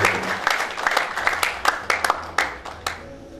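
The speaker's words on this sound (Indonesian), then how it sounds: "Sekali lagi berikan tepuk tangan kepada mereka." An audience at a stage event in Yogyakarta applauds, with many hands clapping in a dense, uneven patter and several sharper claps standing out, the clapping easing off toward the end.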